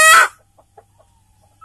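A five-and-a-half-month-old free-range village hen lets out one loud, close squawk while being weighed, followed by a few faint clucks and a brief rising call at the end.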